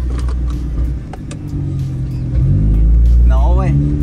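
A Nissan GT-R engine revs for a launch, a loud, close, low rumble that swells upward partway through while people talk over it.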